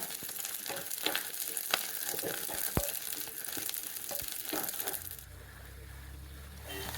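Grated coconut frying toward golden brown in a pan for pumpkin and black-eyed bean erissery, with close sizzling and scraping stirs that stop near the end, leaving a quieter hum.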